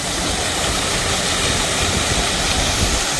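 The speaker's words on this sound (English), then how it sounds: "Might have to back the tractor up a little bit here." A loud, steady engine drones continuously up close, a heavy rumble with broad noisy hiss and no talking.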